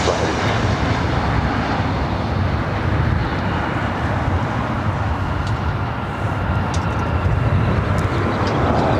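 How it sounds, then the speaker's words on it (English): A Japan Airlines Boeing 787-8 Dreamliner takes off from LAX bound for Tokyo Narita, its engines a loud, steady broadband roar that holds throughout with a slight dip partway. "Takeoff is Japan Airlines heading back to Tokyo Narita. 787-8 Dreamliner, the smallest of all the Dreamliners."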